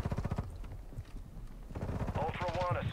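Rapid video-game gunfire from a DMZ match crackles in short bursts, close and loud, with voices talking over and between the shots.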